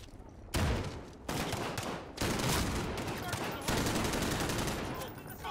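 Rapid bursts of automatic gunfire in the Call of Duty: Modern Warfare campaign, loud sustained volleys broken by short gaps, with faint voices in the background.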